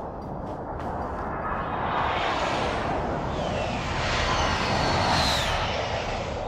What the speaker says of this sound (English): Enemy UAV overhead.